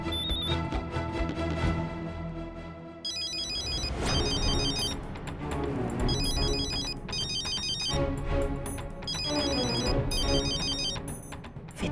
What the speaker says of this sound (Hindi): विद्या का फोन इतनी सुबह?